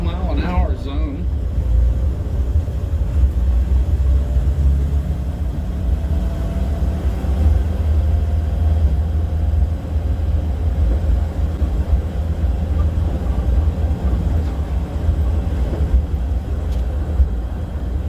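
A supercharged Morris Minor drives through a low-speed town zone, its engine a steady low drone that swells with the throttle, while someone talks over it throughout.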